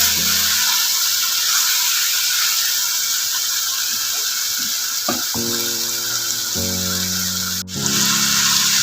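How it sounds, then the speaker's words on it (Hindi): Beef fries for biryani with a loud, steady sizzle and hiss of hot oil in a pan, continuous throughout, with a few brief stirring clatters and no talk. "ये 10 मिनट तक इसको अच्छे से भून लेना है।"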